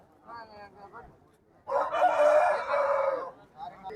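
A rooster crows once, loud and close, at a village chicken market, with faint chatter and bird noises before and after.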